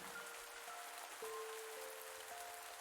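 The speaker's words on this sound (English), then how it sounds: "the rain is kind of dying off now" Steady, soft video game rain hiss with a few faint, thin tones drifting over it. No voices.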